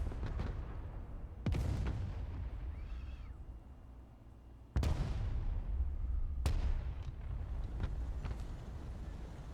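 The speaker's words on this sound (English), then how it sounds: "There's the artillery." Artillery fire in Broken Arrow lands as three sharp, distant booms spaced a few seconds apart, each with a rolling tail over a low battlefield rumble.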